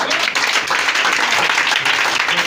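A church congregation applauding during a sermon, a dense steady burst of many hands clapping together, loud and close, continuing throughout with some voices mixed in.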